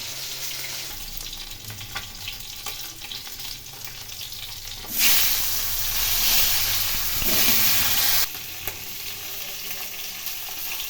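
Fenugreek, fennel and black cumin dropped into hot oil for tempering, a low sizzle that suddenly flares into a loud bright hiss for several seconds before settling back.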